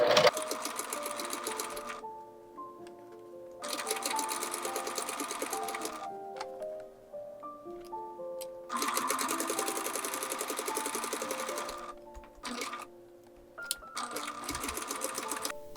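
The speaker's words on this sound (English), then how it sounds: "Press the hem of the pant leg up a 1/4 of an inch on both sides" A sewing machine stitching hems on doll pants: close bursts of rapid, whirring stitching, each a couple of seconds long, separated by short pauses and fabric handling, with no talk.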